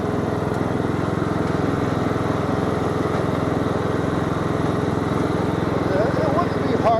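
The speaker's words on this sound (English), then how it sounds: "as long as the tractor's running the backhoe" A tractor engine powering a backhoe runs in a steady, loud, continuous drone with a rhythmic low chug throughout.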